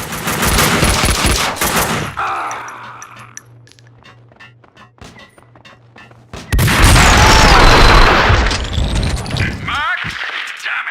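Loud bursts of gunfire from the Max Payne 2 video game dense firing for about two seconds, a quieter stretch with a low hum, then another heavy volley of shots and impacts; talk sounds mixed in.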